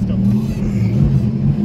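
A car's VQ35 engine hums steadily at low pitch on its first drive after a build, a continuous idling-to-revving drone with no distinct surges, heard from inside the vehicle.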